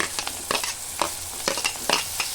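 Green chillies and onion frying in oil with steady sizzling, while a spoon scrapes and stirs the pan in regular close strokes.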